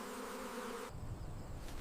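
Honeybees kept by a beekeeper buzz at dawn in Iowa, a steady droning hum for about a second that then gives way to a lower, rougher rumble.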